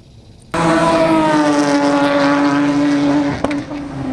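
A time attack race car at a track practice session starts up loudly and holds a steady, sustained engine drone close by for several seconds, with a brief sharp transient near the end and no talking.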